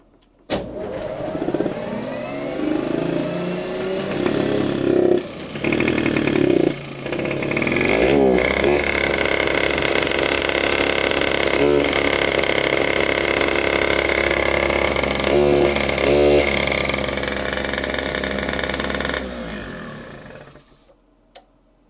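A moped fitted with a Bidalot 50cc cylinder kit starts and runs, its small two-stroke engine buzzing loud and close with a few revs and blips before cutting off near the end.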